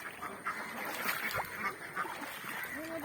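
Ducks quacking in a group by a flooded paddy field after rain, several overlapping calls over a steady outdoor background, fairly close and moderately loud.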